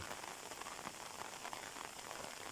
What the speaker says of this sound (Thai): ฝนกำลังตกใส่ย้อยพี่น้อง